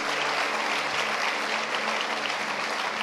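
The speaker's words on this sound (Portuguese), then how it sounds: "Dê uma salva de palmas a Jesus" A church congregation clapping together, a dense, steady burst of applause filling the room for a few seconds.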